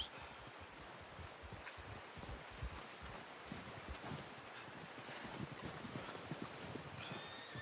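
A horse in Red Dead Redemption 2 clops along with steady, rhythmic hoofbeats and gives a neigh, all under a continuous wash of wind noise.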